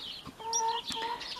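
Chickens cluck softly in a pen, a close murmur of short, overlapping calls with a few sustained tonal notes over a steady background, no voices.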